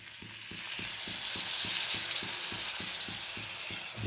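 Poppy seeds dry-roasting in a pan with a little water just added hiss in a steady, soft sizzle, with regular stirring ticks sounding about three times a second.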